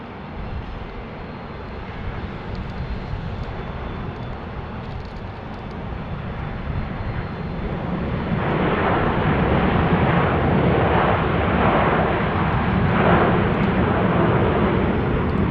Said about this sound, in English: A330-900, a Neo.